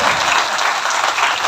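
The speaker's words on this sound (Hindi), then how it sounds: "भाई तालियां तो बजाइए।" An audience at a Hindi poetry gathering claps in steady, dense applause, loud and continuous throughout.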